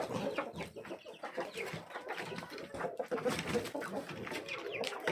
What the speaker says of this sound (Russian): петухи.